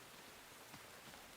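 Steady rain falling in the Enshrouded video game world, a soft continuous hiss heard alone at low volume without any voices over it.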